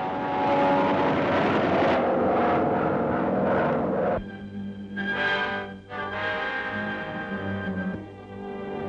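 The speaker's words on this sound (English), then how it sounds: "One of Germany's bat-like rocket planes, the Me-163." A loud roaring engine drones steadily, then shifts to a thinner, wavering whine with rising and falling tones as a German Me-163 rocket plane passes overhead.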